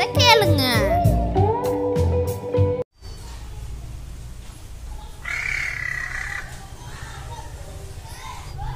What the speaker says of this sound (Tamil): காக்கா ரேர கத்துற வாய்ஸ கேளுங்க.